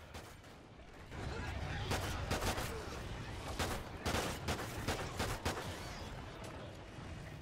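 Pistol gunfire in the video game Extinction, a rapid series of sharp shots in irregular bursts over steady game noise, with faint talk.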